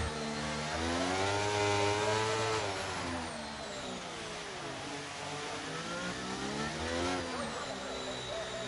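Simulated Formula 1 race car from the F1 23 video game racing around Monaco, its high engine whine loud and continuous, pitch repeatedly climbing through the gears and dropping off for corners.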